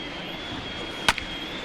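A single sharp bat crack on a high chopper to third base in the baseball video game MLB The Show 20, with a smaller knock just after, over a steady stadium crowd hum.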